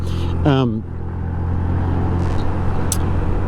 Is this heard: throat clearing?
no